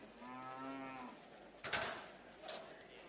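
A single drawn-out moo from cattle at a campdraft arena, followed by arena thumps and clatter at moderate distance.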